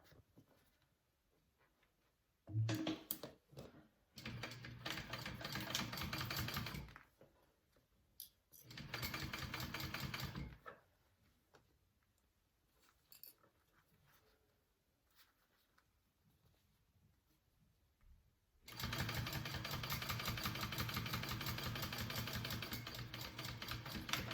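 A sewing machine top stitches a bag flap, running in three sustained whirring bursts of rapid needle ticking separated by quiet pauses, close and fairly loud.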